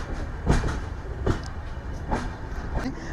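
A train runs along the Nadikudi–Srikalahasti railway line, giving a steady rumbling roll with periodic clacking bursts at roughly even intervals, close and fairly loud, with no talking.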